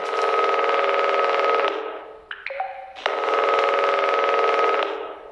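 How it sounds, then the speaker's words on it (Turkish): A telephone rings in a horror video game with two long, loud, buzzing rings separated by a short pause filled with faint clicks and tones, heard alone and up close. "Aa telefon çalıyor."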